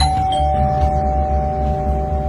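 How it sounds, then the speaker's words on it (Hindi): A doorbell rings steadily for a couple of seconds, its tone clear and sustained over a low background hum, no voices present. "दरवाजे की घंटी बजी।"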